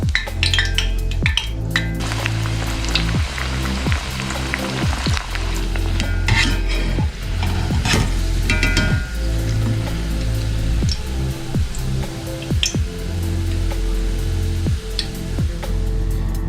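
Parippu vada, a crispy masala vada made from lentils, frying in hot oil, with a steady loud sizzle running throughout. Stirring and clinking of a utensil against the pan come through at intervals on top of it, and no one speaks.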